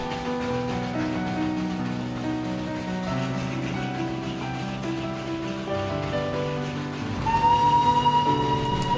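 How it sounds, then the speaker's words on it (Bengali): Darjeeling toy train on its mountain line, a low steady rumble with sustained mechanical tones and faint rhythmic rattling, then a sharp whistle-like tone rising near the end. "সেই আওয়াজটা আসলে এই টয় ট্রেনের আওয়াজ।"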